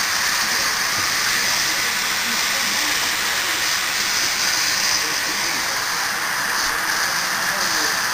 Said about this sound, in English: Some good steam going on here.